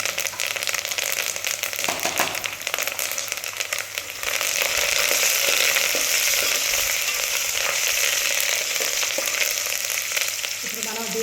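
Curry leaves frying in hot oil for a bottle gourd chutney, a loud continuous crackling sizzle that swells after a few seconds, with occasional stirring scrapes and no talking.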